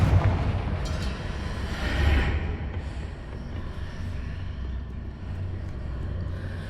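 A Confringo fire spell blasts in Hogwarts Legacy, a rumbling explosion swelling around the two-second mark over a continuous low battle roar, close and full-bodied with no voice over it.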